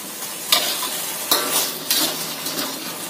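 Chicken with spring onions stirred in a frying pan, a steady sizzle broken by a few sharp utensil scrapes and clinks roughly every second, close and clear with no voices.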